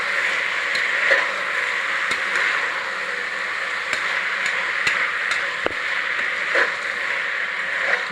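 Tomatoes and other ingredients sautéing in a pan, a steady close hiss with occasional light clicks of a spoon stirring, no talking.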